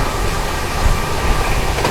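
Duronto Express train running flat out at 130 km/h, a steady loud rumble of wheels and carriage noise throughout with low rhythmic thumps, no talk.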